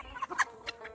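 Chickens at a poultry farm cluck in a few short, close bursts over a quiet background.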